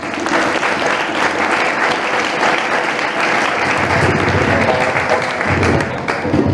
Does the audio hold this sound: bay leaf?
no